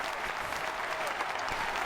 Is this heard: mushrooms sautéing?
no